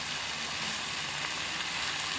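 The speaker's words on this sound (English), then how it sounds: "just saute it like that" Mushrooms for a chicken pie sauté in a pan with a continuous, even sizzle that holds close and steady throughout, with no voices.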